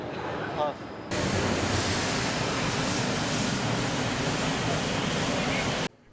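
Stage fire and smoke effect machines roar inside a metro station during a rescue drill, a steady, loud, broadband hiss that starts abruptly and then cuts off near the end.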